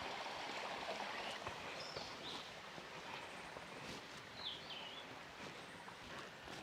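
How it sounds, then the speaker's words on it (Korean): A small early-summer mountain stream trickles and gurgles steadily along the Yeongsil trail on Hallasan. The water is quiet and continuous, with a few faint bird chirps above it. "지금 초여름이라 물이 아주 시원하게 흐르고 있네요"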